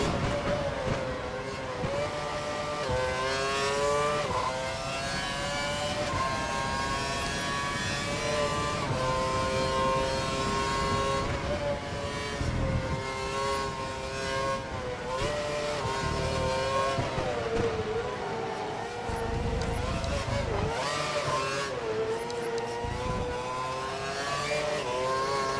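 Formula One race cars in the F1 2012 game at the Brazilian Grand Prix scream past in a loud, continuous high-revving whine, pitch rising and falling through gear changes, with occasional tyre noise.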